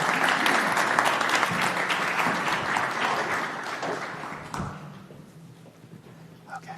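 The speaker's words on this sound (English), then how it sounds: "Can we have a big round of applause," Applause from an audience at a space accelerator launch day event, a dense burst of clapping that gradually thins and fades toward the end, with a few scattered claps and thuds near the close.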